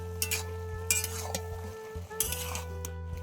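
Bottle gourd with tomato and fried shrimp being stirred in a pan, with a steady low hum beneath and repeated scraping clinks of a utensil against the pan, plus a faint sizzle throughout.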